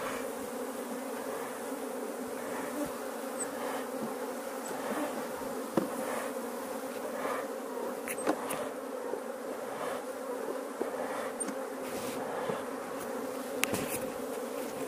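A swarm of bees hums around a hive box after a flying-swarm capture, a steady, dense buzzing close by, with individual bees occasionally flying past louder, and no voices.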